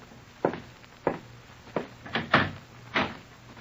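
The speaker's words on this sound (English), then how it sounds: "Open the door, will you, Miss Costello?" A door being opened in a quiet room, heard as a series of soft clicks and thuds from the handle, latch and hinge, spaced over a few seconds with no talking.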